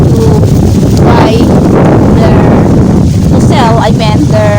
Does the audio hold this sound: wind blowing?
yes